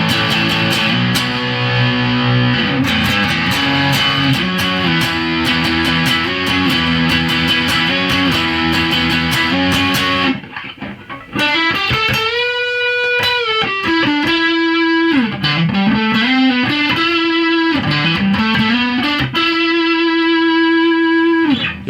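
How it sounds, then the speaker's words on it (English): Electric guitar run through a Boss DS-1 distortion pedal modded with LED clipping diodes, its gain turned fully up, plays a loud, saturated run of chords and then sustained bending lead notes after a brief pause. "Let's go ahead and crank the distortion all the way up."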